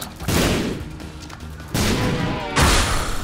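Bomb explosions in the video game Binding of Isaac Rebirth, several loud booming blasts in quick succession, close and heavy, with no voice over them.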